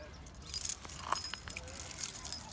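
A bunch of keys jangles and clinks repeatedly close by, light metallic rattles over a quiet background.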